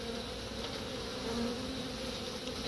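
Honey bees swarm around the queen in a hive, their dense, steady buzzing filling the space without a break, close and continuous with no talking.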